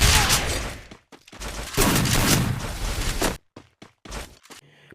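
M1887 shotgun gunfire in the Free Fire mobile game: a long, loud burst of rapid blasts followed by several short, sharp shots separated by brief silences.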